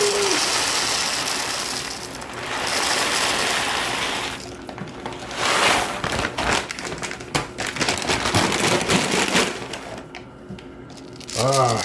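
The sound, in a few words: grinder grinding fresh coffee beans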